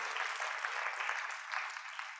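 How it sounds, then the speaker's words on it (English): An audience claps at a Carnatic music arangetram, a soft, even burst of applause from a hall crowd that continues steadily throughout. "Please give him a big round of applause"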